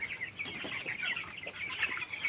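A flock of 17-day-old broiler chickens in a poultry shed gives off soft, overlapping clucks and chirps, faint and continuous with small scattered peaks.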